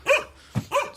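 A dog barks twice nearby, two sharp, loud woofs separated by a brief pause, with a faint thump in between.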